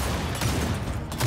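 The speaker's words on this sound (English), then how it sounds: "the overkill shotgun" An overkill shotgun fired in a video game, a brief dense blast of noisy impact that fills the short moment loudly and close.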